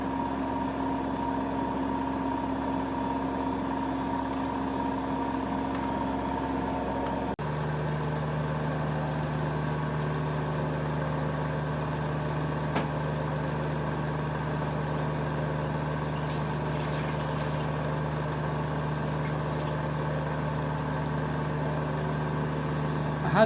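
An AEG Silent System plus 86850 washing machine runs its test spin cycle with a steady, fairly quiet motor hum that drones on without a break, close by and with no talking.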